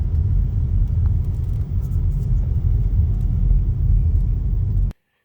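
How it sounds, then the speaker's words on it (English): A car drives up a mountain road deeper into the woods, a steady loud low rumble of engine and tires throughout that cuts off abruptly near the end. "driving from that starting point deeper and deeper into the woods"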